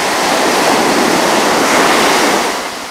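Ocean surf rolls in along the shore at Lahaina, Maui, a loud, continuous broadband wash with a slight easing toward the end, no voices present.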